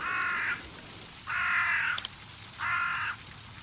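A crow caws three times outside the house, each call a harsh, drawn-out caw about half a second long with even gaps between, fairly clear and moderately loud with no talking.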